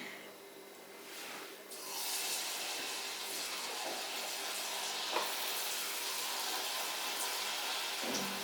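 Chickpeas deep-fry in oil in a pan, a steady close sizzle and crackle with occasional soft stirring scrapes, no voices.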